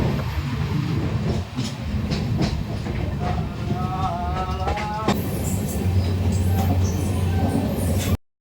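A passenger train running on rails toward Guntur, with a steady rumbling roll and faint rhythmic clatter throughout, fairly loud and continuous, ending abruptly.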